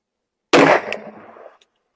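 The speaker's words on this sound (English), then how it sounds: "We're going to just shoot at the center diamond." A single sharp 10mm pistol shot fired through a chronograph toward a target, a loud close crack with a booming tail that echoes and fades over about a second, with silence around it.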